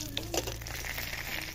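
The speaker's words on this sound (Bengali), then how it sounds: "এই তেলের ভিতর মাছের মাথাটা দিয়ে দিলাম" A fish head sizzles in hot oil in a pan, a steady soft frying hiss with small crackles, close and alone.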